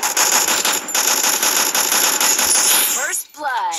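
Rapid automatic gunfire from shooting in the mobile game Free Fire, a loud dense rattling burst running almost without pause, ending in a brief swooping effect, with a voice talking over it.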